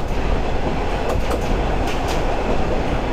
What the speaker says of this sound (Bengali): ও যে ট্রেন আবার বাঁক নিচ্ছে